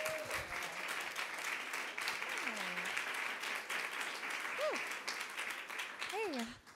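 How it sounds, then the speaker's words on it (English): Steady audience applause at an office diversity event, a dense wash of clapping that runs the whole time while a woman walks up to speak, with a few faint voices and whistle-like tones poking through. "let's give her a round of applause as she comes forward"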